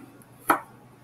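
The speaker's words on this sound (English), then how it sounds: "I get this garlic down to a very fine chop or a mince" A single sharp knife chop on a cutting board while garlic is minced, one crisp close tap in an otherwise quiet kitchen.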